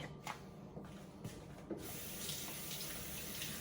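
A kitchen tap runs steadily into a sink during washing up, with a soft hiss and splash that thickens after a couple of brief rubbing pauses, faint and close with no talking.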